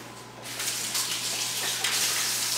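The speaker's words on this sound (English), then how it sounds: "I have to wash my hands." Kitchen tap water runs steadily over hands being washed, a continuous close splashing hiss that starts about half a second in and carries on with slight surges, with no talking.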